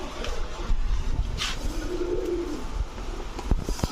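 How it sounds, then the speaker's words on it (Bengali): A single female Musaldom pigeon gives a soft, low coo partway through, fairly faint against steady background noise and a few scattered clicks and shuffles. "এটা হচ্ছে মুসালদম সিঙ্গেল মাদি কবুতর"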